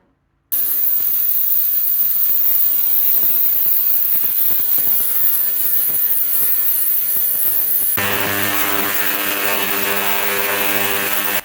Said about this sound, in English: The ultrasonic cleaner really gets into the hard to reach parts of the carburetor